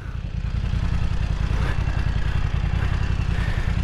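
A BMW F900 R ridden on a race track gives a loud, steady engine drone at close range, its throbbing pulse holding constant throughout with no talking.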